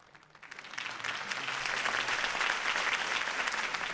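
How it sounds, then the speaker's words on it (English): Applause from a crowd in the video game Batman: The Telltale Series swells quickly and holds steady, a dense wash of clapping that fills the space without voices. "If only Mr. Wayne, my campaign's largest backer, could have heard that applause"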